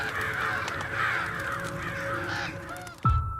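A crow gives several harsh, rasping caws close by. The calls are loud and clear over a faint background, and a sharp thud closes the sequence.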